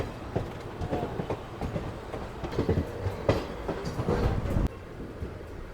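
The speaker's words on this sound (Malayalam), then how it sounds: "നമ്മുടെ ട്രെയിനിൻ്റെ ഇവിടെ വന്ന് കയറുകയാണ്" A Guruvayur-Madurai Express hauled by a WAP7 locomotive pulling into Kollam Junction, heard from on board as rhythmic wheel clatter and rumbling over rail joints, moderately loud, no voices.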